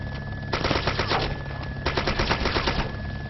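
AK rifle fire in the video game Arma 2: two loud, rapid automatic bursts, the first about a second and a half long and the second slightly shorter, with a brief gap between them and no talk.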